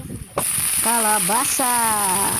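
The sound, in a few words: onions stirred and frying in a pan with burnt garlic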